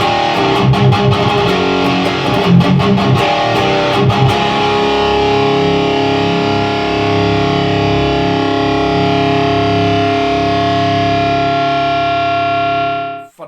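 Heavy metal guitar through a Marshall DSL1HR one-watt tube head with boost and overdrive engaged: fast chugging palm-muted riffing, then a long sustained distorted chord ringing out loud before cutting off.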